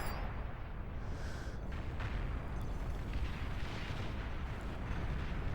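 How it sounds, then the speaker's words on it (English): Aircraft carpet bombing in the Beyond All Reason strategy game during an 8v8 match: a dense, continuous rumble of overlapping explosions and booms that stays steady and heavy from start to finish. "Just carpet bombing over on the blue player."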